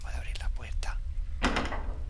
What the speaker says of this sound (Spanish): Bien, puedo abrir la puerta.